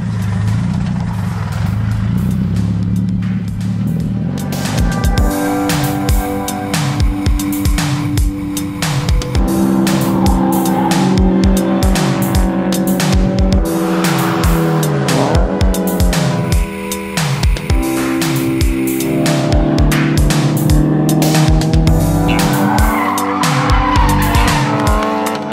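A Scion FR-S is driven hard on a race track, its engine revving up and down loudly while the tires squeal and skid through repeated corners, with no talking.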